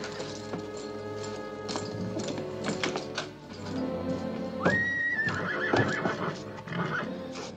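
Horse hooves clopping as a mounted rider approaches in an old western setting, steady and fairly close, with a loud drawn-out whinny partway through over a background of continuous music.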